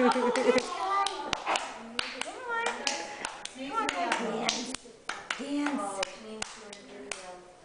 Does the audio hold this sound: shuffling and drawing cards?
no